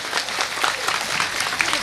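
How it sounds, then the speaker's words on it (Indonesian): Audience clapping at an Indonesian Islamic religious gathering: a short burst of dense, steady applause from a crowd, fairly close and filling the whole moment. "Oh ya tepuk tangan dulu."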